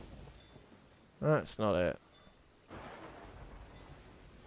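Steady rain hiss with a low rumble of thunder in a video game, continuing as a bed of noise around a short burst of speech.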